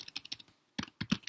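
Fast bursts of computer keyboard typing while entering game code, clustered key clicks with a short pause in the middle, close and clear with no voices.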